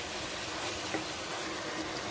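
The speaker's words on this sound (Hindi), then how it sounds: "अब इसमें मैं पानी शामिल करूंगी।" Water being poured into a pot of mutton as it cooks, a continuous close hiss and splash mixed with sizzling, steady and fairly soft with no talking.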